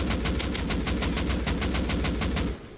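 An LR-300 rifle in the game Rust fires a steady, rapid automatic burst of evenly spaced shots for about two and a half seconds, close and loud, before stopping abruptly.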